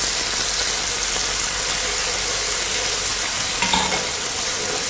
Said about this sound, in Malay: Okey, kita tumis dulu ni cili.